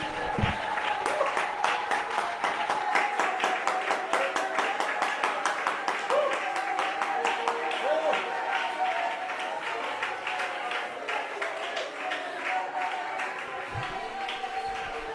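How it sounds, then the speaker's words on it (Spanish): A church congregation applauding during a sermon, sustained fast clapping from many hands filling the room, with scattered voices underneath. "Alguien puede aplaudir a Dios."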